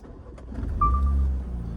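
Car engine starting with a short whirring crank that catches into a low idle rumble, close and brief, with no talking.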